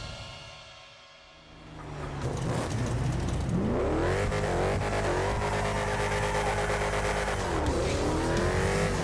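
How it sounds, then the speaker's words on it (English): A loud car engine in GTA Online revs up and roars steadily, pitch climbing and dipping through gear shifts, with a faint tire squeal. "recognize that iconic engine sound before you saw the car"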